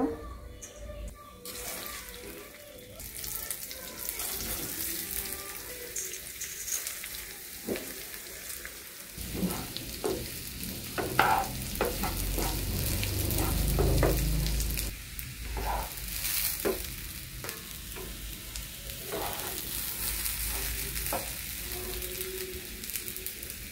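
Rice frying in a pan with cardamom, cinnamon, cashews and raisins, a steady close sizzle with scattered scraping and stirring sounds throughout, no talk.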